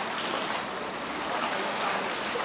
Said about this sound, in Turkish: Bizi dalga bu tarafa doğru sürüklüyor.